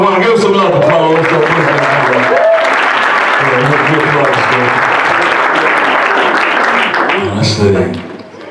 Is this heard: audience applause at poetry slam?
yes